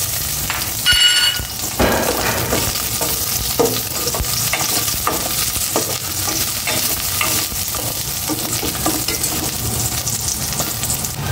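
Onion sizzles and crackles in a hot pan for pork adobo, a loud continuous fry with occasional stirring scrapes throughout.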